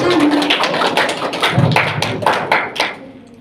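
A classroom group claps briefly, a quick run of close, loud hand claps that fades out toward the end.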